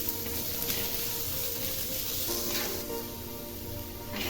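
Chopped onion sautés in oil in a pan, a steady, close frying sizzle with soft crackle and occasional stirring swishes, no talking.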